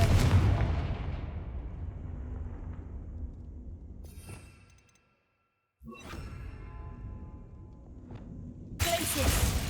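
Confringo fire-spell blasts in Hogwarts Legacy: a booming burst that rumbles and fades, a brief silence, then crackling impacts and another sharp blast near the end.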